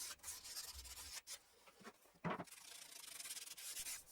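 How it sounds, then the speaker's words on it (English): Sandpaper of 240 grit is rubbed by hand along the edges of a solid oak cutting board, giving close, soft rasping strokes in irregular bursts with brief pauses between them. "running a 240 grit sandpaper along each edge"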